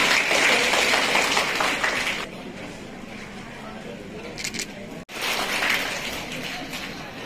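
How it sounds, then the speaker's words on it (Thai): Applause from the audience at an International Day of Persons with Disabilities event in a hotel in Chumphon, Thailand. A broad burst of clapping fades to quieter room noise, then a second round of clapping comes back. "ขอเสียงปรบมือดังๆอีกครั้งครับ"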